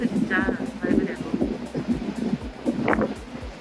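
A fast boat speeds over the sea near Jeju's islands, with a steady engine and hull rumble, repeated thumps from hitting waves, and wind buffeting the microphone while people talk over it.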